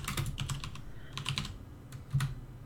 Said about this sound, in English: I was typing the thing.